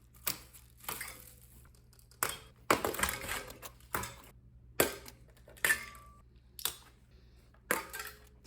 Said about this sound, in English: let's get these straps off of here